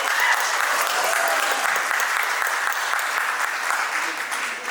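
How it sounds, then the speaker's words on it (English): Sustained audience applause at a Mumbai press conference for a streaming series, a thick, even roar of clapping from a large crowd, steady for nearly five seconds and easing slightly at the end. "can we applaud that, please?"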